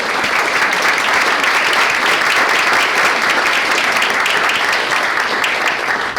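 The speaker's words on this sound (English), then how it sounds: "Please give them all a round of applause." Sustained audience applause at a community placemaking event in Duluth, a dense steady wash of many hands clapping at full volume for the whole stretch, with no talk over it.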